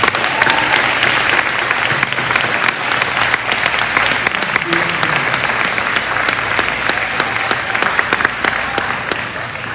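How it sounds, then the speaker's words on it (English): Sustained, loud applause fills a school athletic awards ceremony, many hands clapping densely and steadily without letting up, with faint crowd murmur mixed in. "Let's give them a round of applause."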